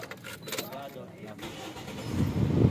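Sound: car engine being started with the starter (self-start)

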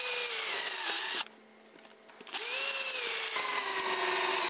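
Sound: drill driving screws into 2x4 wood window box

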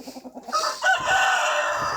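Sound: chickens

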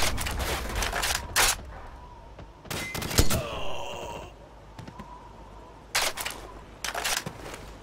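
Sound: weapon reloading in video game Call of Duty Modern Warfare

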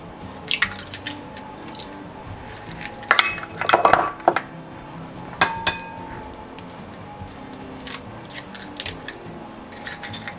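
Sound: two eggs being added to cake batter in a bowl

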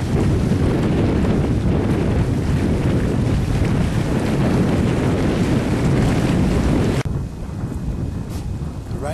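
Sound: wind

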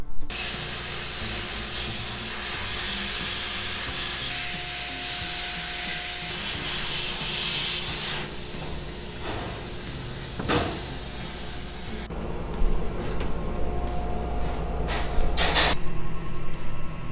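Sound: bead blaster cleaning brazed motorcycle clip-on handlebars

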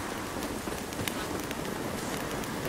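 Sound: rain in video game The Witcher 3

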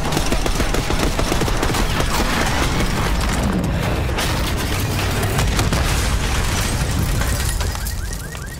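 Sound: gunfire in the video game Black Ops 6

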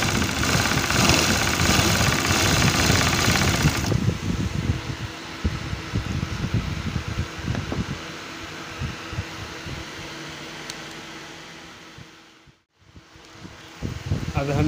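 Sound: sewing machine stitching

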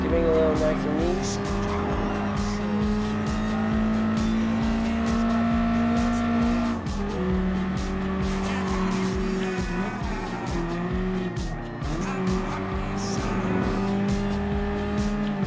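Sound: BMW M3 Sport Evolution racing in Gran Turismo Sport video game

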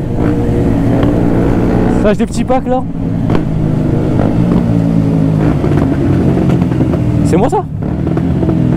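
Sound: BMW S1000RR motorcycle revving with quickshifter pops

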